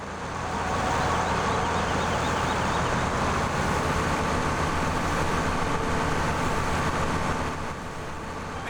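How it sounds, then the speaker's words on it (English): A loud, steady tractor engine drones from Farming Simulator 17, a broad continuous rumble holding nearly constant for several seconds before easing slightly at the end. "Let's just knock that tractor volume down a bit again."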